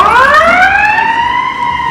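An ambulance siren wails loud and close, its rising tone bending downward as the vehicle passes and pulls away, with no other sound in the mix.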